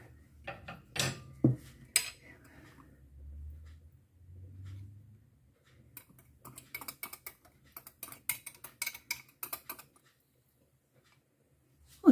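Utensils toss a simple green spring salad in a bowl, light clinks and scrapes in a quick irregular patter near the end, faint and close, with no talk.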